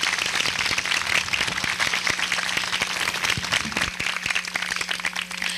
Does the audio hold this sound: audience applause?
yes